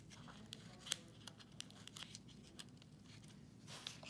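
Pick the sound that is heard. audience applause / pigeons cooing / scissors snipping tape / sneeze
scissors snipping tape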